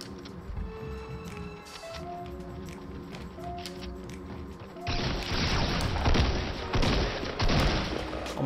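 Gunfire from the Fortnite battle royale game: a few scattered shots at first, then a dense burst of rapid firing in the second half, loud and sharp against a busy game background.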